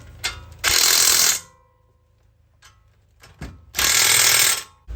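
A ratchet tightening the caliper bolts on an MK6 GTI during a wheel bearing replacement. Two close, rapid bursts of metallic clicking, each lasting under a second, are separated by a quiet pause with a few faint clicks.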